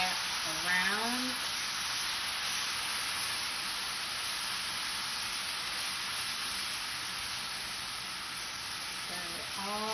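Sauce with lemon juice and Worcestershire sizzles steadily in a hot pan while being stirred for tuna steaks, a constant hiss. A voice talks faintly at the start and end.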